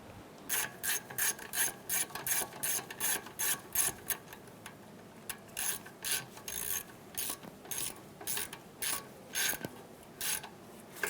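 A ratchet snugs down the nuts on a car's front strut assembly, with quick bursts of rhythmic clicking repeated about twenty times at close range and no talk.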